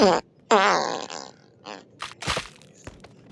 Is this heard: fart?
yes